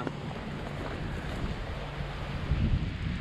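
Strong wind buffeting the microphone while kayak fishing at sea, a dense, continuous rushing roar with a low rumble that swells near the end.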